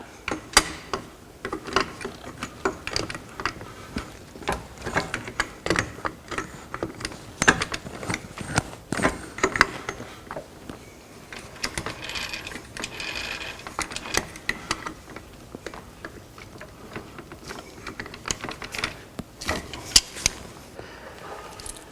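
A wrench works on the lock nut of a Honda TRX450 engine during assembly, giving close, irregular metallic clicks and ratcheting taps that continue without talking.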